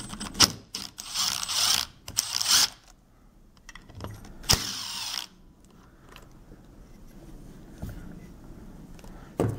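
Screws being backed out of the idle air control valve on a G63T throttle body, with bursts of ratcheting tool clicks and metallic rattles, close and sharp, separated by quieter pauses and handling noise.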